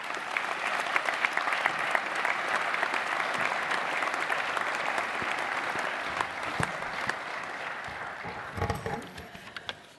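A graduation ceremony audience applauds the graduates' supporters with sustained, dense clapping from a large crowd that fades out toward the end.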